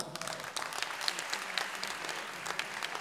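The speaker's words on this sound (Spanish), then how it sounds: "¡Un aplauso!" Applause from a concert audience at a salsa orchestra performance, steady crowd clapping with sharp individual claps, heard at moderate distance and fairly quiet.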